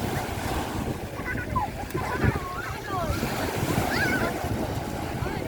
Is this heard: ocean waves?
yes